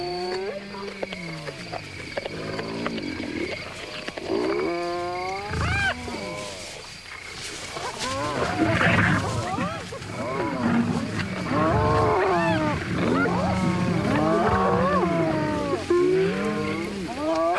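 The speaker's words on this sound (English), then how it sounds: "Hyenas emerge out of the shadows with savage roars, war whoops, and fearsome growls, intending, it seems, to drive off the lions with sound." Hyenas contesting a lion kill on the plains, a loud close chorus of whooping calls, growls and roars that overlap and swell continuously, with deep rumbling underneath.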